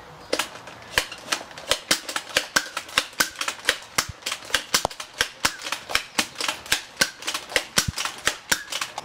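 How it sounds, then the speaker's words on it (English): A Nerf Hyperfire blaster fires in a rapid, fairly even volley, roughly thirty sharp close snapping shots over nine seconds, each a crisp pop with a faint mechanical whir between them. "Next, I'm going to shoot the Hyperfire. I'm going to try to do it as fast as I can."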